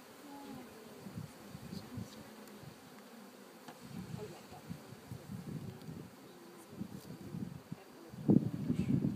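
Honeybees buzz while a package of bees is installed into a hive, a low, wavering drone close to the microphone that rises in loudness near the end, with a faint voice at times.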